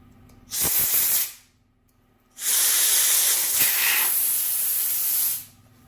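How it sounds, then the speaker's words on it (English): Two bursts of carburetor cleaner spray hiss loudly through a Yamaha SR250 motorcycle carburetor, a short one about a second long, then a longer sustained blast lasting around three seconds. "Should be carb spray coming out everywhere."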